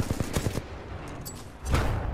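Kraber sniper rifle fired in the video game Titanfall 2, a few sharp gunshot bursts early on and another loud blast near the end, with no talk.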